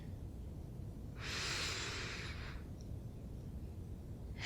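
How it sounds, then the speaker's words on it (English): A single deep breath drawn in through the nose by a woman, a slow airy inhalation lasting about a second and a half close to the microphone, surrounded by quiet. "One last breath together."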